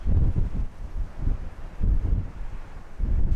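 Gusty wind on a mountain top in Assynt buffets the microphone in heavy low rumbling bursts that rise and fall about every second. No other sound is heard.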